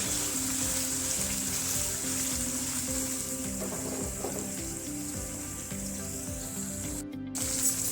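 Paneer browning in a pan for dhaba-style chilli paneer gives a steady, close sizzle that runs unbroken for about eight seconds, with a faint low clatter beneath and no voices.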